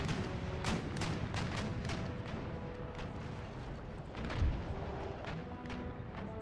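Naval cannon broadsides in Empire Total War roll out as dense repeated booms and rumbling volleys, loud and continuous, with a heavier thud near the end.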